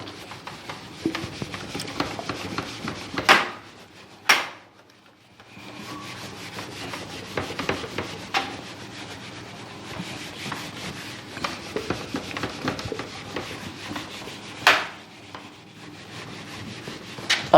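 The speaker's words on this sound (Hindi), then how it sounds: "मैं रब कर देता हूँ" Writing being rubbed off a classroom board with a duster, giving a continuous close scrubbing and rasping sound with a few louder knocks. It carries on steadily for most of the stretch, briefly pausing midway.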